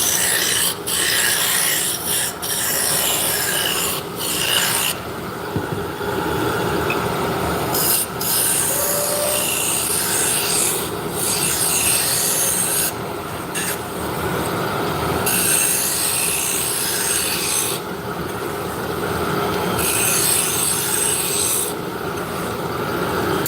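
A wood lathe turns a wooden shaft down to just under a quarter inch, giving a loud, steady rasping and scraping with a high squealing edge and a few short dips where the cut eases, with no talk.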